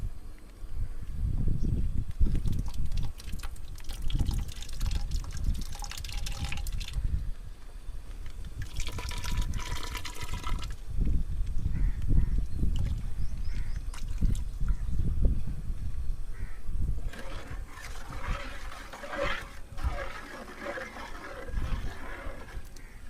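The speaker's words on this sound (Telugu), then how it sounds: "సరిపడిన నీళ్ళు పోసుకున్నాం." Water is poured into a cooking pot for moong dal and potato biryani, a soft liquid trickle and splash with drips, fairly quiet and close, with no talking.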